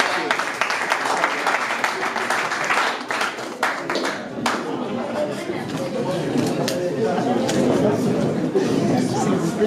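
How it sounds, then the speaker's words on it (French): Audience applause at a Congolese justice integrity awards ceremony, a sustained wash of clapping with crowd chatter mixed in and talk over it. "Applaudissements, s'il vous plaît"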